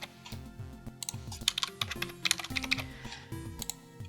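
Close computer keyboard typing as a date is entered, a steady series of distinct keystrokes with varied clicks and brief gaps, fairly clear and heard without any talk.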